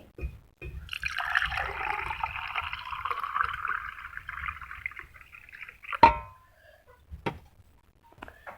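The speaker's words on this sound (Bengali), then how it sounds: "এখন আমি শরবতটাকে ঢেলে নিচ্ছি" Lemon sharbat pours in a steady liquid stream for several seconds, then a few sharp clinks and taps of glass follow near the end, with no talking.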